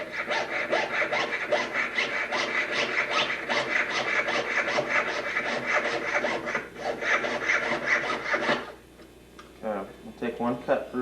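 A saw rasps back and forth through a thin gold ring shank on a jeweler's bench in fast, even strokes, then stops, leaving a few faint scrapes.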